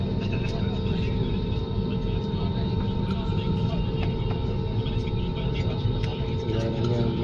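An airliner rolls along the runway at Madurai Airport, heard from inside the cabin as a loud, constant engine roar and rumble. A voice speaks over the noise.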